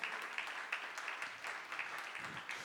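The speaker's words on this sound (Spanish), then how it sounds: "Denle un aplauso al Espíritu de Dios." A church congregation at a service applauds, a fairly quiet, even patter of many hands clapping, heard from some distance.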